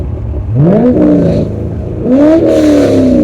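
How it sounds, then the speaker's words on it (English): A Chevrolet Corvette C5 Z06 engine revs twice with the clutch in, each blip rising sharply then falling back, loud and close inside the car with a rough idle between the revs. "Put the clutch in and rev it."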